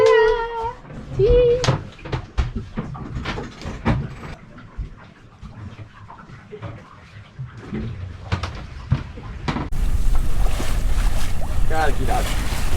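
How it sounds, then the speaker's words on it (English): Cabin of a sailboat under sail after the engine is shut off, with creaking, knocks and water sloshing against the hull. Birdlike chirps and a voice come early, and a steady rush of wind and waves builds toward the end. "this is how it is inside while sailing"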